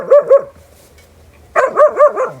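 Close dog barks come outdoors as two quick yaps, then a short pause, then a faster run of four or five barks, with no one talking.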